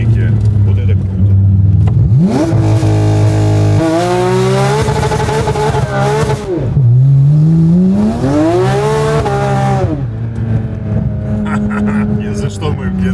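A Porsche 911 GT3 RS makes a launch start on snow, its engine howling loudly up through the revs and shifting, then climbing again, close and dominant, with a voice talking over part of it.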